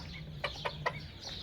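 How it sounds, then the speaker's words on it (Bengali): Chinese partridge hens cluck while feeding, giving three short, evenly spaced calls over a low background hum, fairly close and moderately quiet. "দেখুন তিতর চীনা মুরগিগুলো কি সুন্দরভাবে এই যে"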